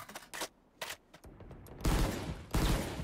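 Gunfire in the Valorant video game: two short bursts of shots early on, then heavier, louder bursts of fire in the second half, with brief gaps between them.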